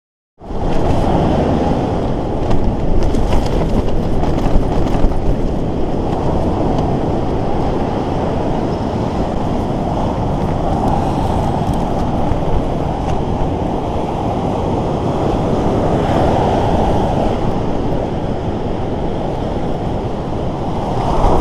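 Strong, steady October wind on the Baltic coast roars and buffets the microphone by a shaking tent without letup, a dense continuous rush with occasional heavier gusts.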